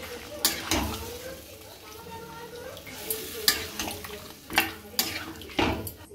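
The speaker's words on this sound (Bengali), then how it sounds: "চিকেনটা দিয়ে একদম ভালো করে নাড়িয়ে ছাড়িয়ে" Chicken for a rezala fries in a pan while being stirred, soft sizzling under repeated sharp scrapes and clinks of a utensil against the pan, close and intermittent.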